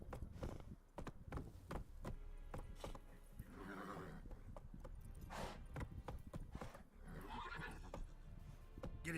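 Roach, the horse in the video game The Witcher 3, galloping with rapid clip-clop hoofbeats, punctuated by two loud neighs partway through, close and continuous.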